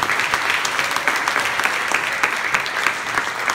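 A steady round of crowd applause at a concert honoring bands and soldiers, many hands clapping in a dense, continuous wash with occasional sharper claps standing out, sustained at even loudness throughout.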